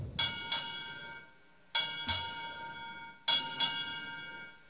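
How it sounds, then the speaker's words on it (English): A ship's bell sounds six bells at a Navy Sailor of the Year ceremony: three evenly spaced pairs of clear metallic strikes, each pair struck close together and left to ring out and fade before the next. "Bosun, strike six bells."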